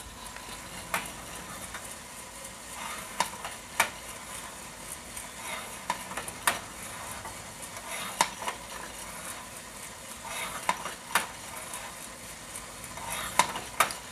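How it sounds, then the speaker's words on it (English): Coffee beans cracking during first crack in an M10 Sniper Pro roaster, heard as scattered sharp pops and snaps, some single and some in quick pairs, over a steady whirring roaster hiss. "Okay, I can hear the first crack."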